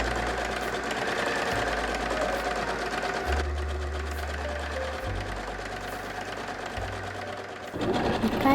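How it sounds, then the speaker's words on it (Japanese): A sewing machine stitches the shoulder seams joining the front and back facings of a gauze jacket, running as a steady close whir throughout with slight shifts in pitch as the stitching speed changes. "後ろ見返しと前見返しの肩を縫おう。"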